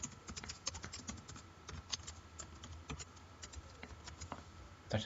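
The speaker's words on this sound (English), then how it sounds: "So I'll write select star from EMP sal." Steady computer keyboard typing as an SQL query is entered, a dense run of light clicking keystrokes throughout, close and fairly quiet, with no voices.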